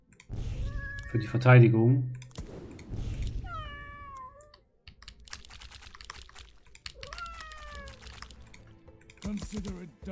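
Cat units in the tower-defense game Legion TD 2 give several tonal, pitch-bending meows, one loud and bright near the start and others spread across, mixed with game effects and someone talking intermittently.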